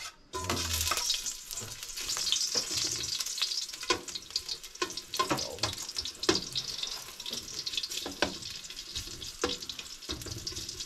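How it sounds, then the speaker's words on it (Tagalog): Garlic sautéing in a pan with squid for a Filipino dish: a continuous close crackling sizzle with frequent sharp spits and stirring scrapes, fairly quiet and without speech. "umpisa na natin mag-isa ng bawang"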